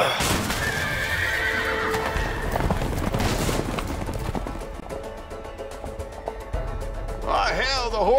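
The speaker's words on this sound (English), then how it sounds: "Horses are escaping, honey." In a video game, horses escaping a barn whinny loudly over a dense, busy soundscape with clip-clopping hooves and rhythmic thuds, ending in another close, shrill neigh.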